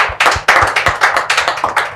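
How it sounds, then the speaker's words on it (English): A small group claps in short, uneven bursts of sharp hand strikes, close and fairly loud, with no voices over it. "Let's clap for them."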